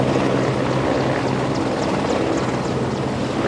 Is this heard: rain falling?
no